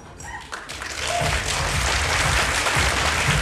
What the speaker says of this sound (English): If you're in costume, clap.